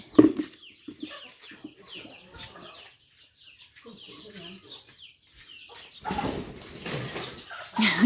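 Chickens cluck and murmur in scattered, irregular calls at moderate distance on a rural Lao farm, with a louder noisy burst of movement near the end.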